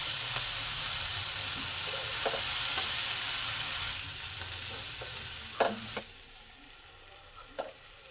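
Vegetables (potato, beans, spring onion) stirred as they fry in a pan: a steady sizzle with scraping spatula strokes, the frying quieting partway through as sharper scrapes and clinks stand out.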